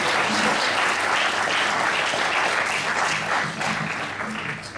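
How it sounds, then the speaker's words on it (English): Church congregation clapping their hands together, a loud sustained wash of applause that fades slightly toward the end, with voices faintly beneath. "just give the Lord a hand clap"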